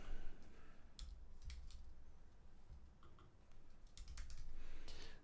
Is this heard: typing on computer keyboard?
yes